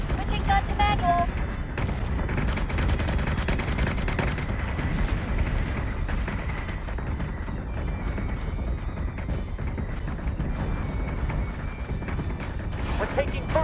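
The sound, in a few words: ship gunfire in Battlestar Galactica Deadlock video game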